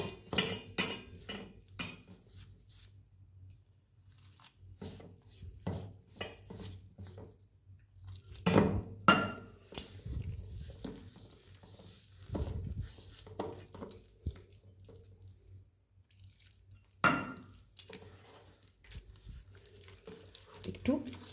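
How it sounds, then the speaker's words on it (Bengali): Gram flour batter is mixed with water in a bowl by hand, giving sparse clinks, taps and wet scraping sounds with quiet gaps between them, fairly close and soft. "আমি বেসনটাকে অল্প জলে গুলে নেব, মিশিয়ে নিয়ে একটু"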